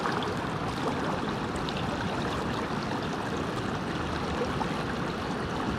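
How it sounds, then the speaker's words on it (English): A mountain creek rushes steadily over rocks nearby, a continuous broad splashing hiss with no voices. "I think we found our new favorite creek"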